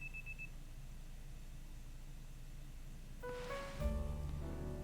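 In Pokémon Legends Z-A, an alarm clock goes off as a short string of electronic beeps after a quiet stretch, followed by a brief rising game jingle.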